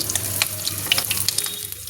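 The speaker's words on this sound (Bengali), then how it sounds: "পটলগুলোকে ভেজে নেব, শুধু নুন দিয়ে ভাজবো" Pointed gourd (potol) frying in mustard oil with salt in a hot wok, a dense close sizzle with small crackles and pops throughout, heard alone.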